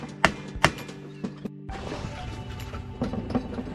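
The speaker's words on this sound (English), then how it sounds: "I'm going to pound it and try to pry it up." A part on a Craftsman mower is being pounded and pried loose during charging system repair work. Two sharp metallic knocks are followed by lighter taps, then a stretch of scraping, clanking and grinding, close by.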